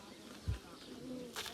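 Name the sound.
American pigeons cooing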